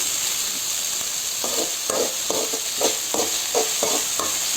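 Onions sautéing in a pan for an egg drop curry: a steady hiss of frying with a run of spatula scrapes and stirring strokes coming every half second or so, close and moderately loud.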